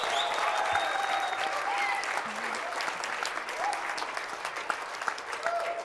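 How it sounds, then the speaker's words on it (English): Audience applause at a forum in Seoul, a steady, moderately loud sustained clapping from a hall crowd, with faint voices and a few tonal sounds audible beneath it. "a big round of applause"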